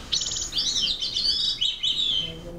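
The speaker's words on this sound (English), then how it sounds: "It's a bird." A wild songbird sings a run of bright, rapid chirping and warbling phrases, clear and fairly close, with no voices over it.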